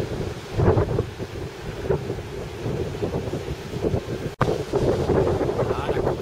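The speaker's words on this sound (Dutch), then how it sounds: "Oude golven hier zijn toch wel iets anders dan die van ons Noordzeestrand." Ocean waves along the Gran Canaria coast with houses right beside the beach, a steady wash of surf mixed with strong wind buffeting the microphone, briefly cutting out before resuming just as loud.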